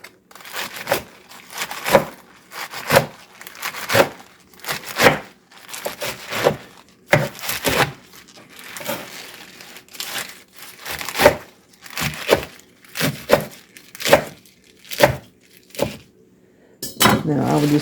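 Swiss chard being chopped on a cutting board: a steady series of about fifteen sharp, crisp knife strikes with a leafy crunch, close and regular, briefly pausing once before resuming.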